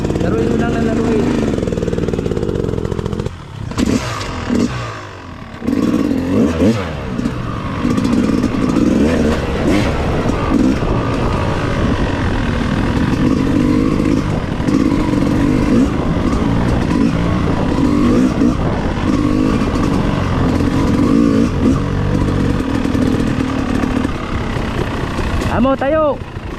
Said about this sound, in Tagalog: Laruin mo yung gas mo, laruin mo yung motor mo.